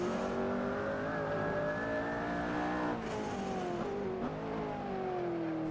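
A hypercar powering through a corner on a racing lap, its engine note holding a steady high drone and then dropping in pitch around an upshift, loud and close, with no talking.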